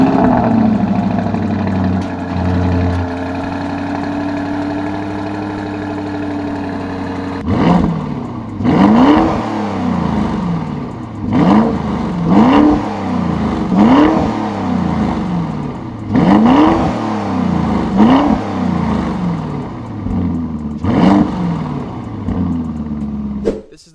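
A twin-turbo V8 supercar with an Akrapovic exhaust idles with a low steady drone, then gets blipped in a series of sharp, loud revs that rise and fall in quick succession, with people talking between the bursts.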